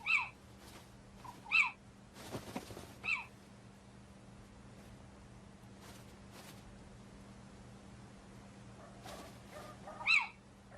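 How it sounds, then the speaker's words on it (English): A little owl gives several short, sharp calls spaced a few seconds apart, fairly close, with faint rustles between them over a quiet low hum. "One little owl is distracted by bright lights."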